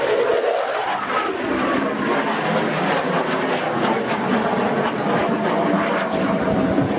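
Jet aircraft flying in formation at an airshow, a loud, continuous broadband roar that sweeps slightly in pitch as the planes pass, steady throughout.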